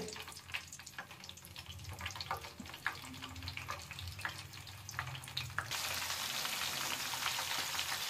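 Chopped onion and capsicum frying in oil for homemade chilli gobi, with soft stirring clatter at first, then a steady, close sizzling hiss that swells and holds to the end.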